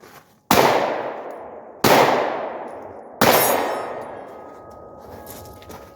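Three loud .40 caliber shots from a Glock 22 pistol fired one-handed, spaced about 1.4 seconds apart, each a sharp crack with a long ringing metallic decay, at an outdoor range with no talk.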